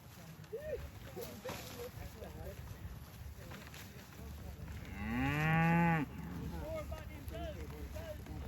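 Cows on a farm, one giving a single loud, drawn-out moo about a second long partway through, while people talk steadily throughout amid outdoor background noise.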